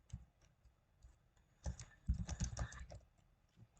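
Typing on a computer keyboard while writing into a text file on an Ubuntu machine: scattered soft keystrokes at first, then a dense burst of rapid clicky taps, fairly quiet and close, with no talking.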